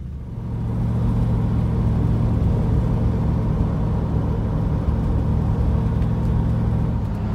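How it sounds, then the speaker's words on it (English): A Triumph Stag's V8 engine on the road, a low, steady burble and rumble from the car's interior that holds constant throughout, loud and with no talking over it. "there's nothing better than the sound of that V8 burble"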